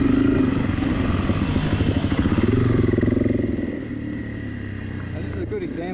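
A Honda CRF 300 Rally dual-sport motorcycle rides along a wet trail, its single-cylinder engine thrumming loudly and close, pulsing with throttle changes before settling to a lower, steadier drone.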